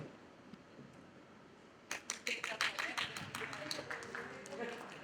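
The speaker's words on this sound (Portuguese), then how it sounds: "Obrigada pelas palmas únicas." After a quiet pause, one person at a panel discussion claps alone: a short run of about a dozen sharp, fairly close hand claps that trails off into soft room noise.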